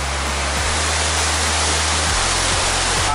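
A waterfall roars with steady, dense rushing water, loud and close, filling the whole moment without a break; a low hum shifts faintly beneath the constant spray.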